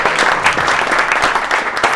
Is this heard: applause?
yes